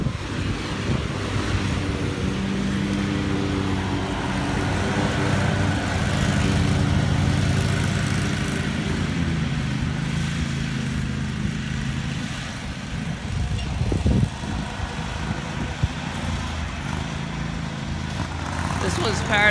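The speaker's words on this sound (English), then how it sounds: "This one's powered by a Kawasaki engine." A 61-inch hydrostatic riding lawn mower with a Kawasaki engine runs at a steady, moderately loud drone, heard nearby with a brief louder clatter near the middle.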